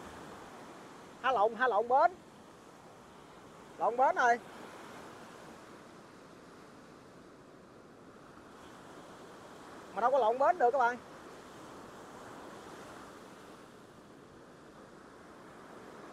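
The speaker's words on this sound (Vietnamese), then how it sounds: "Sóng dữ dằn lắm nha." Rough river waves slap and wash around a small boat in a steady broad rush, with someone speaking in brief bursts over it.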